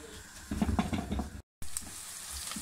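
Onions sizzling in hot oil for dhaba-style masala bhindi, a close crackling fry with a burst of stirring, a brief dropout, then a steady softer sizzle.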